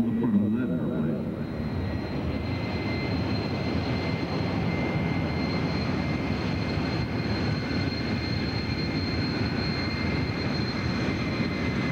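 A propeller airplane taxis along an airfield taxiway at an air show, with the AT-6 Texan mentioned, giving a steady low engine drone that holds continuously for about twelve seconds at moderate loudness.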